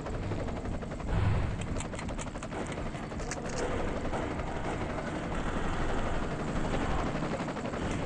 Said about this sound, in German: Hubschrauber. Schon wieder?